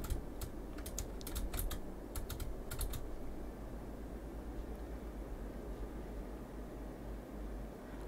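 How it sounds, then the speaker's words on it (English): Computer keyboard arrow keys clatter in quick bursts of sharp clicks while someone plays City Skylines, bunched in the first few seconds before giving way to a low steady hum, with no talking. "I'm using my, arrow keys to move around now"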